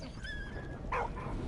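A dog in the video game Valiant Hearts gives a short, faint whine followed by a single brief bark, heard quietly over a soft game background.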